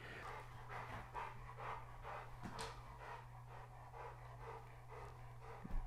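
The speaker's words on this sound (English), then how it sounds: "I don't know if you can hear this dog breathing" A dog pants rapidly and rhythmically close by over a steady low electrical hum, with no one speaking.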